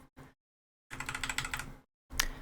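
Brisk clusters of keyboard clicks come in short bursts: a couple of quick taps, a longer run of typing, then a final burst after a pause.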